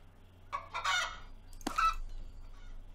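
A chicken in the video game Star Stable gives two short clucking bursts close by, separated by a brief pause, over soft ambient game sound.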